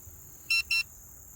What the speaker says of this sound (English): So once it calibrates, it'll beep.